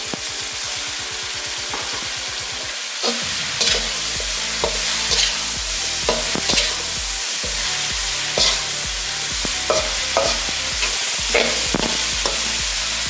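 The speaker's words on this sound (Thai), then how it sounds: "เราจะผัดแบบแห้งๆนะคะ" Crispy pork and holy basil stir-fried dry in a hot pan, with steady close sizzling broken by repeated scraping and clattering stirs throughout.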